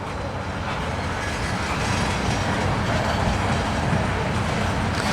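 A CSX freight train loaded with ethanol rolls steadily past close by, its loud, continuous wheel rumble and clatter holding at full level throughout.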